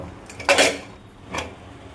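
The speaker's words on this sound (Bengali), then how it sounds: "এবার ঢাকনাটা খুলে দেব" Metal lid lifted off a cooking pot of mutton curry with papaya, giving a short clattering scrape followed about a second later by a fainter second clink, close and alone with no talk.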